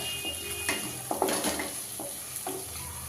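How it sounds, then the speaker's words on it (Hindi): Onions and ginger-garlic paste sizzle in a pan while a spoon stirs them, with soft frying hiss and several scraping stir strokes close by. "अच्छे से प्याज के साथ चलाते हुए भून लेते हैं।"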